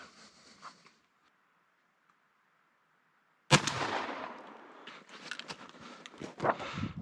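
A single sharp blast from an over-under shotgun firing TSS shot from the bottom barrel through an improved cylinder choke, loud and close, followed by a ringing tail and handling clatter after a few seconds of quiet.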